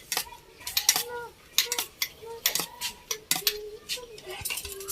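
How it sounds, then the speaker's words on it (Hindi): Dishes, glasses and plates being handled in a home kitchen, with sharp clinks and ringing taps of crockery and metal knocking together in an irregular rhythm, close and fairly loud. "शाहजेब ये बर्तन चेक कर बेटा, वहाँ पे गिलास प्लेटें वगैरह पूरी कर।"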